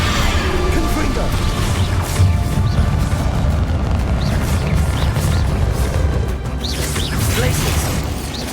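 Confringo fire spell explosions in the Hogwarts Legacy video game, a dense run of loud blasts, crashes and impacts over a continuous battle din.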